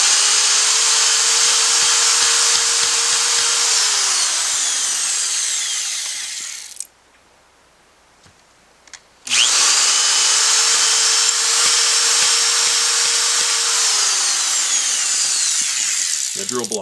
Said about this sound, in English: I like to run the drill back and forth a few times. It kind of helps clean out all